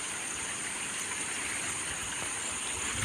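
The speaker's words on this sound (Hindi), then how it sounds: "नाला, जंगली नाला जो गुजरा हुआ है, जंगलों से आ रहा है" A jungle stream flows steadily past forested land, its broadband rushing wash continuous and fairly close, with no voices over it.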